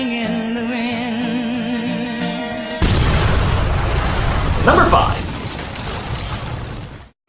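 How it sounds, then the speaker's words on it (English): A movie explosion goes off a few feet away, a sudden loud burst that follows a tonal musical passage and is trailed by rumbling debris and crackle, with a voice speaking briefly. "The explosion just a few feet away."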